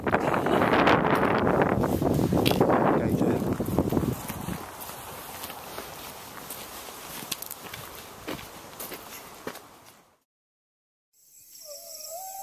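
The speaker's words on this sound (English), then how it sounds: "It's quite windy, isn't it?" Strong wind gusting across the Rhyd Ddu ridge on Snowdon, a loud buffeting roar against the microphone that eases after a few seconds into lighter gusts and rustling, then briefly drops out entirely.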